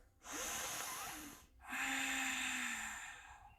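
During a yoga session, a person takes two long, airy breaths close by and quietly, the second drawn out with a faint tonal edge.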